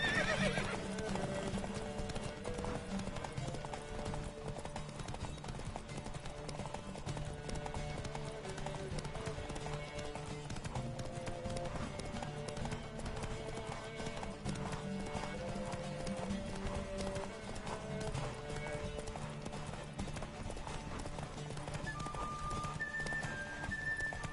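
Horse hooves clip-clop at a fast, steady gallop in The Witcher 3 video game, with occasional neighs over a continuous bed of game music.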